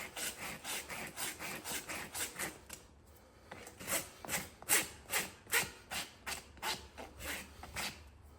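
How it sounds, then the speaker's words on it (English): A farrier's rasp scrapes across a horse's hoof in steady, rhythmic back-and-forth strokes, close and fairly loud, with a brief pause partway through. "Rasp that down."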